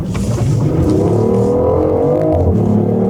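A BMW i8 hybrid with a three-cylinder engine accelerates, its loud, close engine note climbing steadily in pitch as it revs up, with no talk over it.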